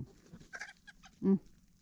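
Free-range chickens foraging naturally give a few quiet clucks over low background, with one louder, brief cluck-like call near the end.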